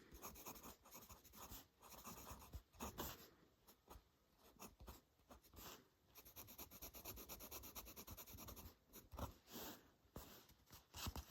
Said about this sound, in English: Now we're gonna try the Lamy fine nib